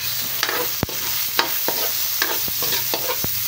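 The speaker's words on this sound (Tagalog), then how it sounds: "Hindi ko na po ganong ginikisa yung sibuyas para mabango siya." Onion sautés in a pan with a loud, steady sizzle, punctuated by sharp clicks and scrapes of a utensil stirring against the pan at irregular intervals.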